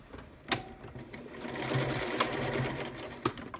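A sewing machine stitches a short run to tack elastic in place inside a fabric tube for a headband, close up, with a few sharp clicks and a steady hum, no talk.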